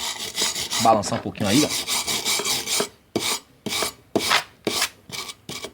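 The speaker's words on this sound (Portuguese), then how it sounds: "Pode limpar melhor com a escova de aço, tá?" A steel wire brush scrubbing a fresh weld seam, loud and close, in fast rasping strokes that turn into a choppy back-and-forth rhythm. Someone speaks briefly near the start over the scrubbing.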